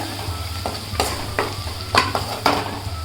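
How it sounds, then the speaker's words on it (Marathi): Spices are sautéed in a pan with onion for egg bhurji, giving a steady close sizzle broken by several sharp scrapes of a spatula stirring. "आता हे मसाले टाकते मसाले थोडे परतून घेते"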